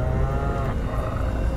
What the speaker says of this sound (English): I swear I just heard a fucking cow.